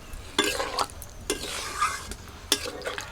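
Chicken simmering with coriander leaves after a little water is added, stirred with a utensil that scrapes and clinks against the pan in several separate strokes over a soft bubbling hiss.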